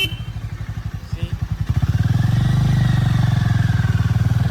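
Harley Davidson X440T motorcycle engine pulsing steadily, then rising to a loud, sustained accelerating roar as the bike rides through city streets and turns, close up and alone with no talk.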